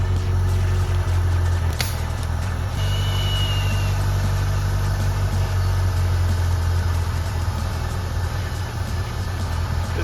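A 1983 Plymouth Turismo engine, sitting unused since 2009, idles steadily with a low, even rumble close by, with a brief click partway through and no talking.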